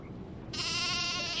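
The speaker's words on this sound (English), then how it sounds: "Sheep!" A single sheep bleat from the Nancy Drew video game rises clearly halfway through, sustained and moderately loud over a low background.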